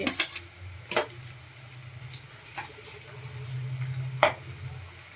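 Ginger, garlic and chili paste sizzles softly in a pan while a spoon scrapes and taps against it several times, irregular stirring strokes over a low frying hiss.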